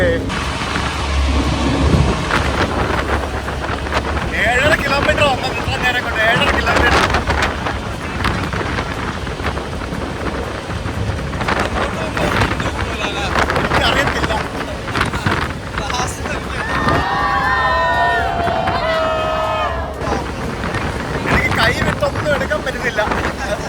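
A Shotover jet boat races along a river near Queenstown, New Zealand, its steady roar mixed with heavy water spray and wind buffeting, while people talk and shout over it.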